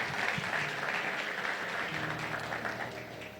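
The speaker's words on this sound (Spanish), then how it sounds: "¿Cuánto le dan un aplauso al Señor?" Sustained applause from a church congregation, steady and fairly loud throughout, tapering off slightly toward the end.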